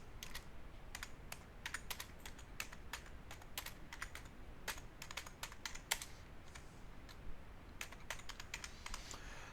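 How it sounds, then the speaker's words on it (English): Someone types a project title for a video edit on a computer keyboard, with quick irregular bursts of close, crisp key clicks separated by short pauses in an otherwise quiet room. "I'm simply going to type in a title for the project"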